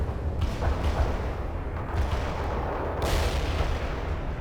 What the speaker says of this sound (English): Launch those grenades! Grenades and fire!